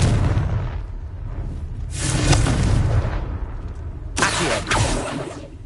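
Two heavy explosive blasts from the Confringo fire spell in Hogwarts Legacy, the first swelling near the middle and a sharper second burst later, both over a steady rumbling game background.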